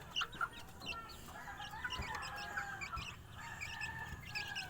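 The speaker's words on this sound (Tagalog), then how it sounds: "Ito po yung mga chicks na Siamo Asil." One-month-old Shamo Aseel chicks of the Tanaka line give repeated high chirps and peeps in a steady scatter, close by and fairly faint, with soft clucking among them.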